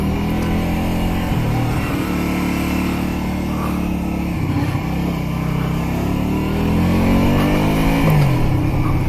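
A Honda Shadow 125 motorcycle engine drones loudly and continuously while riding a winding road, with shifts in pitch as it changes gear and accelerates.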